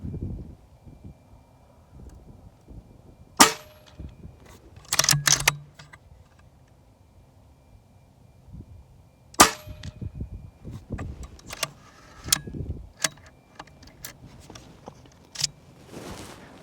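A JTS Airacuda air rifle fires slugs and pellets while a magazine is emptied, giving sharp isolated cracks with metallic clinks, spaced a few seconds apart in near silence.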